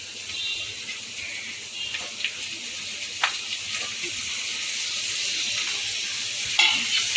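Chicken pieces stirred with lightly fried onions for chicken tehari, giving a steady close sizzle with scattered scraping stir clicks throughout, no voices.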